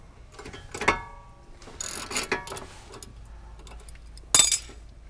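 A ratchet with a 16 mm socket works a BMW brake caliper bracket bolt, giving scattered short clicking bursts and a few sharp metallic knocks close by, with no talk.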